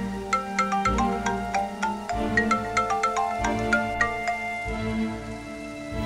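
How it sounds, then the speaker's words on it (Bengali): A mobile phone rings in a home with a repeating electronic melody of bright chiming tones, close and clear with no talking over it. "মা তোমার ফোন।"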